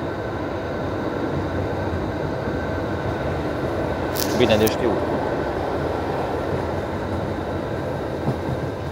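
A Hungarian MÁV compartment passenger train runs on a cross-border diesel route from Oradea toward Püspökladány, with a steady rumbling roar of wheels and carriage under brief speech and a short high-pitched squeal midway.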